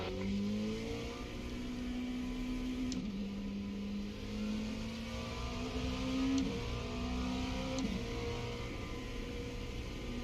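A Dallara race car in a racing video game pulls out of the pit lane at Watkins Glen, its engine holding a steady mid-pitched drone with a few small gear-step shifts, loud and close throughout.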